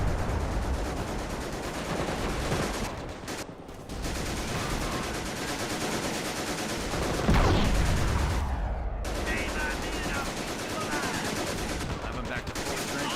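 Rapid gunfire and bursts of machine-gun fire from a World War II battle in the strategy game Company of Heroes 2, dense and continuous for the whole stretch with a few brief lulls and a heavier swell midway.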